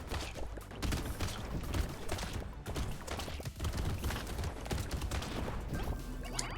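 Engineer turrets in the game Brotato fire nonstop at bosses, a dense rapid clatter of shots and impacts running throughout at a moderate level.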